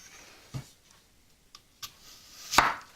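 A knife thinly slices an onion on a board in a few sparse, crisp cuts, the last one loudest, with quiet pauses between them, recorded close.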